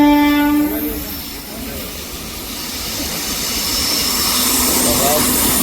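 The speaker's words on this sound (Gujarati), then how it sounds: "ટ્રેન આવી ગઈ છે આપણી લાઈન." A train pulls into a railway station with a long loud horn blast at the start, followed by a rumbling, rolling wagon noise that stays steady and prominent.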